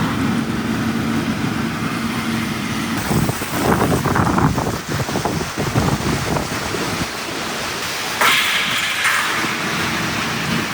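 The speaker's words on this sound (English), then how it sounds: "It's really windy." Strong wind from Super Typhoon Doksuri roars in Taiwan in the early hours, with heavy rain. It is a loud, unbroken rush that surges in gusts throughout, with no voices.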